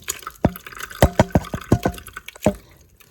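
Fresh white cheese curds and whey for Portuguese queijo branco being poured into a strainer, heard as a run of close, wet splashes and drips in quick bursts with short gaps, no talk.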